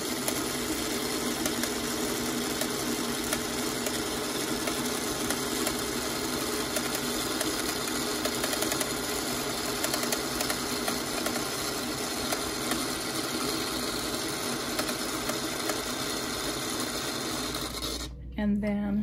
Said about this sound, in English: So I'm just gonna sew right on the line.